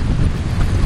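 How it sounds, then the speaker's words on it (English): Strong wind at Killarney Lake buffets the microphone, a brief low rumbling roar with no voices. "Still a little windy."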